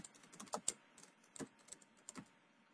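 A search term typed on a computer keyboard: a short burst of irregular, quiet key clicks, close and otherwise silent.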